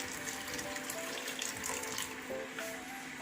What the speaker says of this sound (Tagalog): meron na ako ditong pinainit na tubig